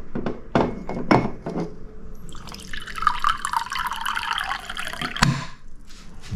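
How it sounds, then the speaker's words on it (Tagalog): Water drips into an electric heating cup, then pours into it in a steady stream lasting a few seconds and ending in a final splash. The sound is close and moderately loud. "So, ito na po yung heating cup natin. So, of course, maglalagay tayo ng tubig mga amigos."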